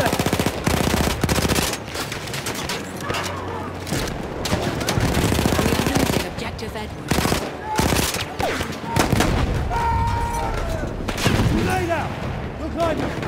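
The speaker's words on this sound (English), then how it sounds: "Enemy machine gun over there." Enemy machine gun rattles in long automatic bursts during a Battlefield 1 multiplayer battle, mixed with other gunfire and explosions in a dense, loud wartime soundscape, with voices shouting now and then.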